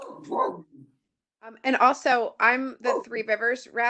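A pet dog barks a few times faintly in the background at a home during an online university faculty meeting, heard briefly at the start before someone speaks over it.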